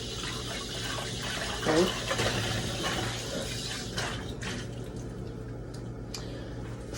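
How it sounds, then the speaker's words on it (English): A cooking saucepan is rinsed under running tap water in a home kitchen, a steady splashing flow with a brief clatter of the pot, while someone speaks briefly. "I like to always wash my pot before I get started."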